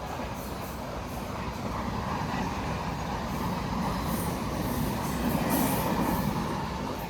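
A train runs through Sawantwadi railway station in the Konkan without stopping, giving a steady, fairly loud rumble of wheels and carriages that swells slightly toward the end, with no voices over it.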